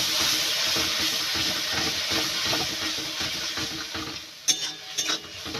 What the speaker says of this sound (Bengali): পেঁয়াজ টমেটো ভালো করে ভেজে নিয়েছে